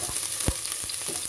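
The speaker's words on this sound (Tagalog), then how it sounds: "igigisa na po natin ang ating bawang" Garlic sizzling in hot oil in a pan, a steady bright crackle that carries through the whole short moment, with one dull knock of a utensil near the middle.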